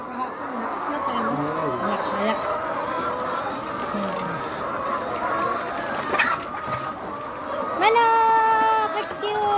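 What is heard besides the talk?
chickens clucking at a poultry farm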